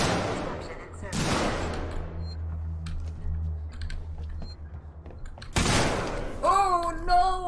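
Gunfire in the sci-fi survival game Alien Isolation: two loud, harsh bursts of shots with a quieter stretch of clicks and rumble between them. A voice follows near the end.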